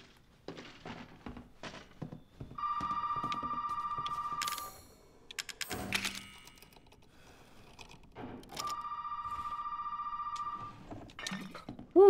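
In the Resident Evil 7 video game a telephone rings in two long electronic trills separated by a gap, moderately loud. Footsteps and clicks sound around it.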